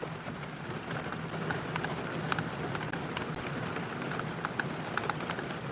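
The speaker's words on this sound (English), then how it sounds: "It's raining, bro." Steady rain falling, a continuous dense hiss with scattered sharper drops pattering on a surface, no voices heard.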